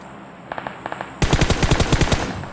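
Rapid automatic gunfire from PUBG Mobile, a couple of short faint bursts followed by a loud, close sustained string of shots with a sharp, even rhythm.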